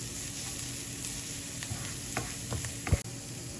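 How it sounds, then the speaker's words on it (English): Garlic and other aromatics fry in oil for a Vietnamese peanut dipping sauce, giving a steady close sizzle under occasional stirring scrapes and a couple of louder utensil knocks near the end. "putting in the garlic and other things like that into the oil. And have it cooked together"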